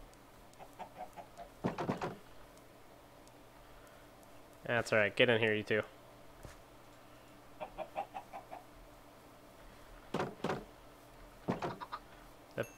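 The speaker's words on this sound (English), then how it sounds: "I didn't exactly want chickens" Minecraft chickens cluck in short bursts, with a louder squawking burst in the middle, under a low background hum while a person talks intermittently.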